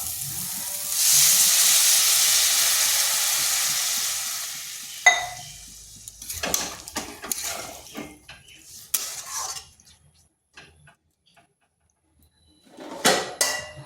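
Water is poured into a hot pan of soybean, potato and pointed gourd curry, raising a loud sizzle and hiss that fades over several seconds, followed by scattered clinks and stirring sounds.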